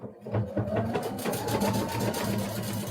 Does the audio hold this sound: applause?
no